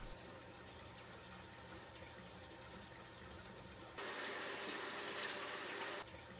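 Water pouring and gushing into a 265-gallon aquarium filter sump, a faint steady trickling wash that grows noticeably louder and brighter in the middle section before settling back to a quieter flow.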